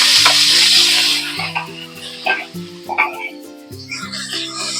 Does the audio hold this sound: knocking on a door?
no